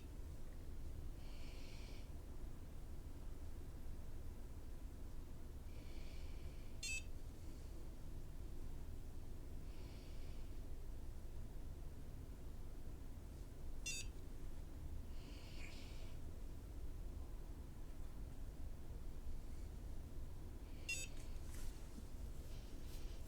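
A NuFace microcurrent facial toning device gives short, faint, high beeps every few seconds over a quiet, steady room hiss, with no talking.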